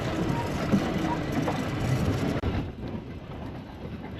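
A farm vehicle driven across muddy ground, a steady rumbling drone of engine and rattling body, close and continuous, quieting slightly partway through, with a voice speaking beneath it.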